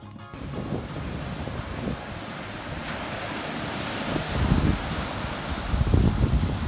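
Ocean surf rolls onto the beach at Assateague Island, a steady broad wash with wind buffeting the microphone and swells building louder toward the end, with no voices.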